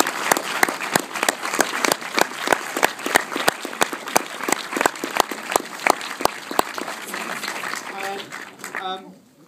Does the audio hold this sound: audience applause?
yes